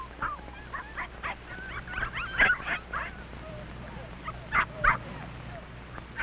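A mother dog and her puppies yip, whimper and bark in short, scattered bursts, close by, with a voice talking underneath.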